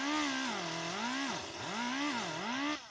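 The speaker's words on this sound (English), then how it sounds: "I need to sand on the corners because the corner is really swelled up" A power sander works Bondo body filler on the corners of a car body kit, its motor whining steadily while the pitch sags and rises again as pressure on the surface changes. The sound is close and continuous, with no voices.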